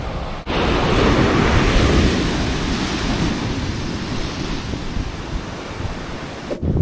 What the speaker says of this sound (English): Look at this whole beach to myself.